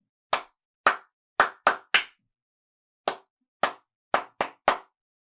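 A group at a wellbeing singing workshop for a choir claps out a rhythm pattern: ten crisp, close hand claps in uneven bursts, some quick pairs and some spaced apart, with silence between groups and no talking.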